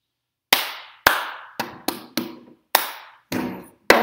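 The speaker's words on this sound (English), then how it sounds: "Clap, clap, bottom of the cup, slap, slap the table." Cup game played with hands and a plastic cup: eight sharp, separate claps and cup slaps on a table in an uneven rhythm, each one crisp and close with a short decay, and no voices.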